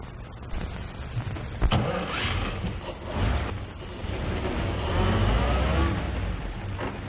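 A car engine in a 1931 mystery film cranks and catches, then idles and revs with rough mechanical rumbling and clatter, fairly loud and close, with no voices.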